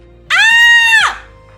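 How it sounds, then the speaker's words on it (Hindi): A woman's loud, sustained scream rings out in a Hindi radio drama, one piercing cry lasting about a second and cutting off abruptly. "कि जोरदार चीख उसके मुंह से निकलती है।"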